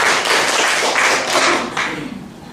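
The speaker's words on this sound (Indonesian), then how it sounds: "Iya, tepuk tangan buat Tuhan Yesus." Loud, dense applause from a church congregation at an end-times sermon in Harapan Indah, Bekasi, a steady wash of many hands clapping that tapers off slightly toward the end.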